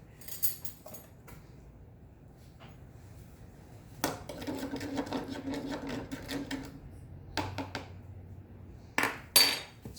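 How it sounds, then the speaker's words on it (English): Salt being stirred into vinegar in a container, heard as bursts of scraping and clinking: a few light taps early, a longer stretch of stirring in the middle, then short scrapes near the end. "And then you put some salt in there. And then you stir it."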